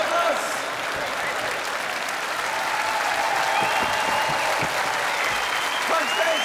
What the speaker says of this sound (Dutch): geef hem een enorme applaus.